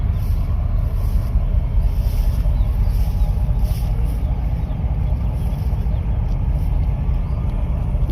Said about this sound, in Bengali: প্রত্যেকটি জাহাজ সিরিয়ালে আসতেছে